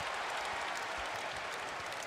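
A basketball arena crowd roars and applauds during an undefeated Purdue versus West Virginia game, a dense, sustained wash of cheering that fills the space at an even, loud level.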